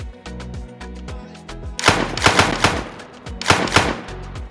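Gunfire in the Mini Royale shooting video game: rapid bursts of shots, a first cluster of sharp cracks followed by a short pause and a second burst, loud and close over steady background game music.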